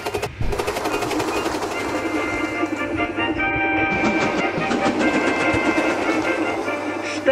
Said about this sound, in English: Gordon's train rocketed past and was gone.